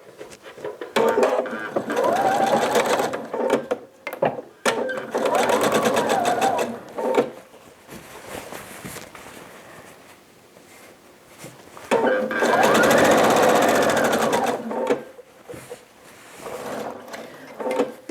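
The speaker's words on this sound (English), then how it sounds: "So go ahead and stitch all the way down that edge." Sewing machine stitching a quarter-inch seam along a jelly roll race quilt strip, loud motor whir in bursts of a few seconds separated by short pauses and small handling clicks.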